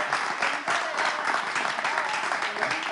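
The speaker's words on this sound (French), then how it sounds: "applaudissez, bien sûr." An audience at a French live show applauds, a dense, steady wash of clapping that fills the whole stretch at close range.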